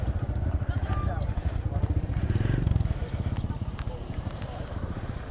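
Motorcycle engines idle and putter in a shrine's parking area, a dense rapid low chugging that carries on steadily and sounds close by, with faint background activity.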